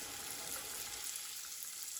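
Small kefir-dough verhuny, five or six at a time, frying in hot oil, giving a steady, quiet, continuous sizzle with no voices.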